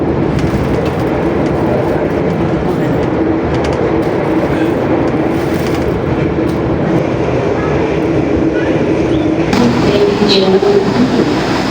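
The KA Panoramic luxury train runs from Surabaya to Yogyakarta with a loud, continuous rumble and rail noise heard from inside the carriage, with faint clicks and hints of a voice underneath.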